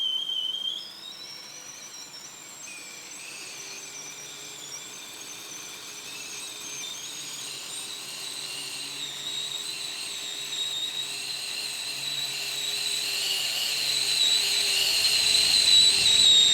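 A Gemco Whistler kettle on the boil lets out a long, wavering high whistle that holds for many seconds, steady and fairly loud, rising slightly in strength toward the end, with no one speaking.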